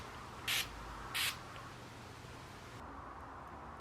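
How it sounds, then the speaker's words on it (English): Makeup setting spray misted from a pump bottle, two short, close hissing puffs about half a second apart, then a quiet background hiss. "To end the look, I'm going to apply the setting spray."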